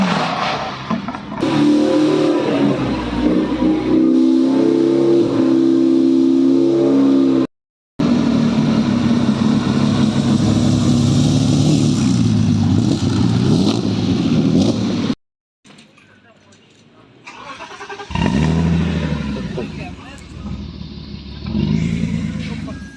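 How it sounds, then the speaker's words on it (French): Car engines idling and revving in loud, sustained roars with pitch rising and falling, broken by two abrupt cuts, then a quieter stretch before the engines build again. "c'est vraiment entendre les moteurs."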